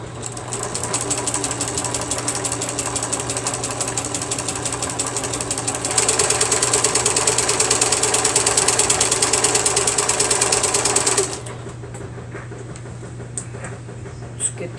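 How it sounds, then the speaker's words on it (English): A sewing machine stitching down the side of a quilt block, a steady rapid mechanical whir and clatter that speeds up midway, then stops abruptly, leaving a low hum. "We're going to sew down the other side."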